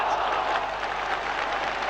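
A 1980s football crowd applauds a fine shot, producing steady, moderately distant clapping that spreads across the stands for a couple of seconds.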